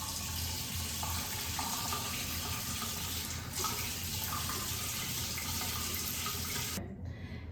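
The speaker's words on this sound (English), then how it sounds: "And just like that, my face is washed." Water runs steadily from a tap into a sink while a face is washed after Lasik eye surgery, a continuous close splashing flow that cuts off abruptly near the end.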